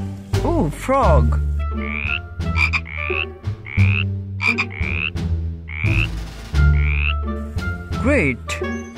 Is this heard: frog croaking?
yes